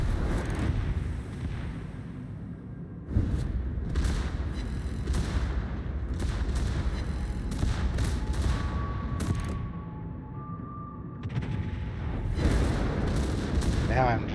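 Heavy naval gunfire and artillery booms from a warship battle game, Ipiranga, with repeated blasts over a continuous rumbling engine and sea background, plus faint tonal effects midway; a player talks over it.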